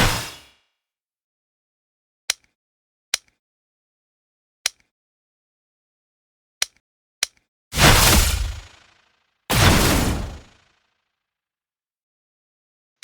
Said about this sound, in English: I put in a slash effect similar to the explosion when you're hit by a blaster.